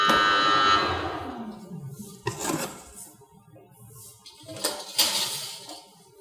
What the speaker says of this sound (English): Now we have a buzzer and we will load the food.